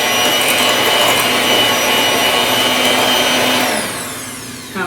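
An electric mixer on low speed blends pumpkin ricotta cake batter, giving a steady whirring hum with a bowl-scraping rasp that holds for several seconds, then eases off near the end.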